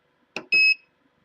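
An Eryone ER-20 3D printer gives a short electronic beep, preceded by a brief click, loud and close in an otherwise quiet room.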